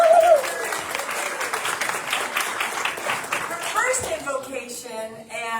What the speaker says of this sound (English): A warm round of applause to Cecilia Burch, Practitioner.